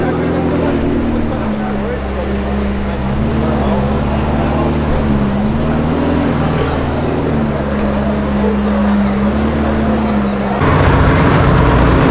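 A McLaren supercar on a São Paulo street gives a steady, loud engine drone with a low rumble throughout. The sound swells and grows heavier near the end, with city traffic noise around it and people talking over the top.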